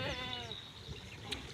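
A goat gives a short, faint, wavering bleat at the start, followed by quiet farmyard background noise.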